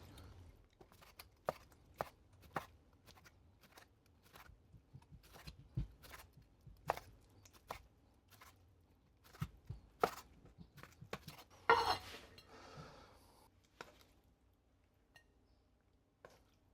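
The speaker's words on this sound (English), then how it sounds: "We're going to slice this up into strips." A knife cuts cooked NY strip steak into strips on a board, giving a string of sharp, evenly spaced chopping taps up close, with a brief clatter of utensils near the end.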